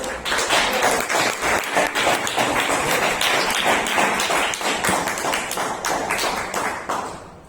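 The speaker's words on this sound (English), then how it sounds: "we of course need to really applaud both" An audience at a Toastmasters club meeting in Bangalore breaks into steady applause, dense overlapping hand claps that hold for several seconds at close range and then fade out.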